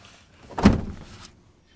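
A strut on a James Baroud rooftop tent collapses under a sharp tug, giving a single quick clack and swish that peaks mid-clip and then fades out, close by and alone.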